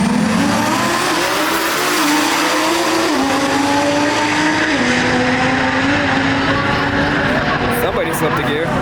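A drag race car at a Euro drag racing event launches down the strip, its engine screaming loudly and continuously as it pulls away, with faint tire noise and crowd sound in the background.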